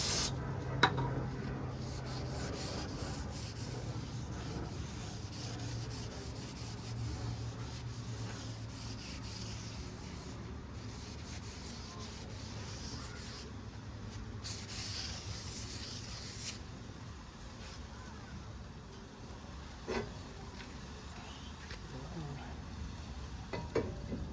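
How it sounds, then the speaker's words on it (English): A rag rubs and wipes across a brake caliper on a 2019 Subaru Forester front brake kit, doused with brake parts cleaner, a steady soft scrubbing close by with occasional small knocks. "Just gonna take a rag, some brake parts cleaner."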